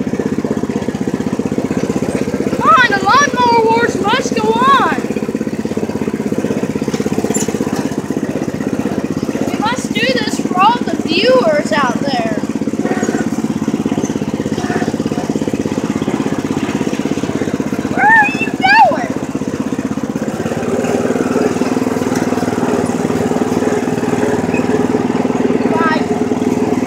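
Lawn mower engines drone steadily and loudly throughout, with a constant mid-pitched motor hum while voices call out over it several times.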